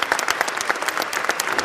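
Brisk applause from a group outside a courthouse, a steady patter of many hands clapping, fairly close and continuous with no voices standing out.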